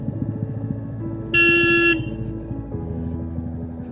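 A motorbike horn gives one short bright honk at a corner on a steep mountain road near Darjeeling, sounding over the low, pulsing drone of the bike's engine.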